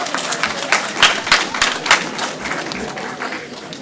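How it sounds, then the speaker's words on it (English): Audience members at a school board meeting clap in a short burst, a scattered group of nearby hands rising quickly and tapering off by the end. "You can clap."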